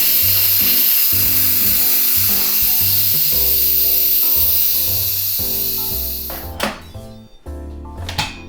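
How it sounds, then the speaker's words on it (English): An Instant Pot pressure cooker's steam valve is released manually after cooking mustard molasses chicken, giving a steady, bright hiss under background music that fades out near the end. "we're going to release the steam valve manually"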